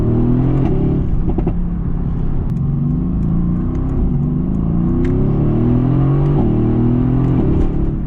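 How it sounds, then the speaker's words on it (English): Mercedes-AMG GT S with 515 hp V8 revving hard through downshifts on a drive, loud and close with rising and falling engine tones and sharp blips, no talk. "those downshifts are crazy"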